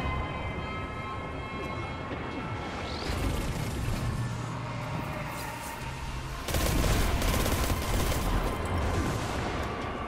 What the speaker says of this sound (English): This is not a bad little SMG.